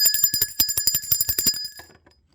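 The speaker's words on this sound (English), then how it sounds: "Let's ring the bell for Ngate." A small bright bell rings in a quick run of about fifteen sharp strikes, each with a ringing metallic tone, then decays into silence.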